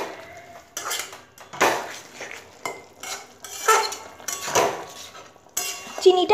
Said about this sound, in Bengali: চিনিটা দিয়ে ভালো মতো নাড়াচাড়া করে মিশিয়ে দিয়েছি।